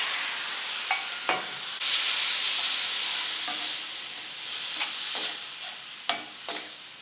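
Onions and mixed spices fry in a pan with a steady, close sizzle, broken by occasional scraping stirs and clicks of the spoon, with no voices.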